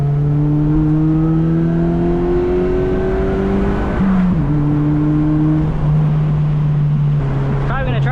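A car engine with an aftermarket intake revving hard through gear shifts with rev-matching, the pitch climbing steadily, dropping sharply at a shift, then rising again, loud and close.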